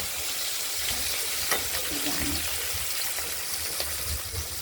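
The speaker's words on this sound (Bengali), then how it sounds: "মাছগুলো ভাজা হোক দু ভাজা করে নিতে হবে" Steady, soft sizzling of bata fish frying in oil, a constant hiss with faint stirring scrapes and no voices.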